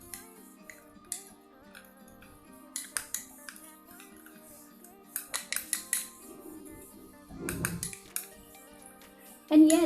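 A spoon clinks and scrapes in a bowl while multani mitti (Fuller's earth) powder is mixed for homemade loose face powder. The sharp taps come in short irregular bursts over a faint steady background.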